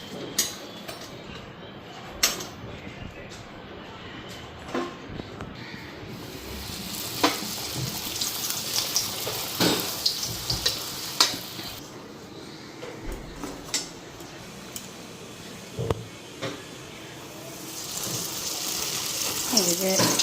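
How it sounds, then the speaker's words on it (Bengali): Luchi, puffed breads made from red wheat flour, fry in hot oil with a steady, crackling sizzle, punctuated by sharp clicks and stirring knocks, while faint voices sound in the background. "গরম গরম ফুলকো ফুলকো লুচি দেখো ভাজা হইতেছে।"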